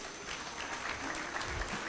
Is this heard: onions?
no